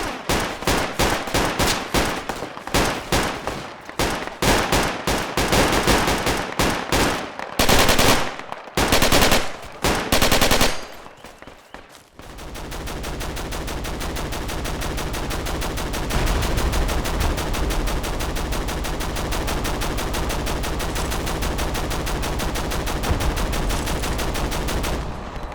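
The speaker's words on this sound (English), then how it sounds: "I love the sound, or the way the guns sound." Automatic weapon fire rattles in rapid bursts with short breaks in the Battlefield 2 mod Project Reality, then gives way to a continuous dense roar of firing that runs to the end.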